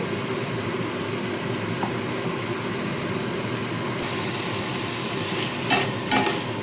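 Spice masala frying in oil in a pan while being cooked down for a pabda fish curry, a steady low sizzle with soft stirring scrapes and a couple of brief louder clatters near the end.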